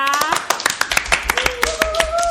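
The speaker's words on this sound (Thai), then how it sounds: "ขอเสียงปรบมือให้กับพี่อภัยนะคะ" A small audience claps for a guest on a Christian talk show, a short burst of scattered, distinct hand claps with a voice talking over them throughout.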